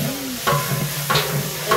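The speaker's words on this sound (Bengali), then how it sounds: "একই সাথে কিন্তু ওইখানে রোস্টটাও ভেজে ফেলা হচ্ছে।" Meat roast frying in a large pot for a wedding-style meat khichuri, loud continuous sizzle with a few rhythmic stirring scrapes.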